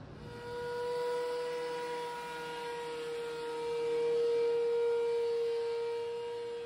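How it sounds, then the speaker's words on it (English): A thickness planer feeds an ash board through its cutter, giving a loud, steady mechanical whine with a sustained tone that holds evenly for several seconds and swells slightly near the end, with no voices. "while it's running through the thickness planer"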